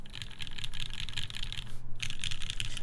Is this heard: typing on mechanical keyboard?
yes